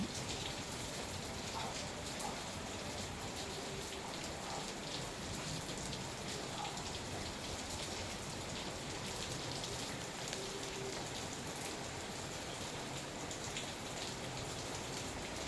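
Downpour in Gensan keeps up a thick, unbroken wash of raindrops drumming on surfaces, steady in level from start to finish.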